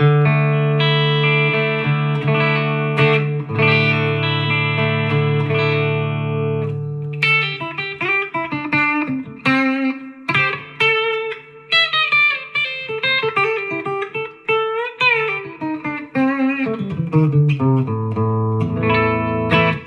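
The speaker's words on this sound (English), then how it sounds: "Let's go to like a deluxe sound." Electric guitar through a warm, clean deluxe-style amp, recorded on a GoPro Hero 11 Black, with chords giving way to melodic single-note runs and bends, steady and fairly loud with no voices.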